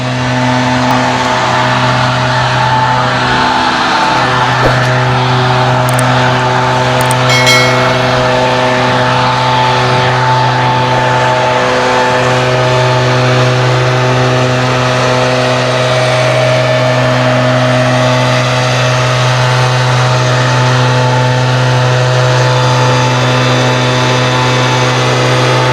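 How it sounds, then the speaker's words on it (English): Leaf shredder running continuously in a suburban garden, a loud steady motor drone with whirring and occasional rattling bursts as leaves are sucked up and shredded. "then we'll start with the leaf shredder, and we'll be able to suck them up"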